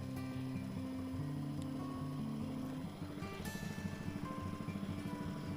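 A small boat engine on the Amazon chugs steadily with a low, rhythmic putter, continuous throughout, with a faint water wash in the background.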